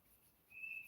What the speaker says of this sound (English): If you can hear that whistling, they're just playing.